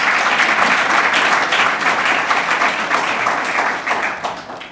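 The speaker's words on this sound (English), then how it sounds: "We can clap for that" A crowd applauds at the ribbon cutting for 50 Rector Street, a market-rate housing building in downtown Newark on the former Science High School site, with dense, steady clapping that holds loud throughout and tapers slightly at the end.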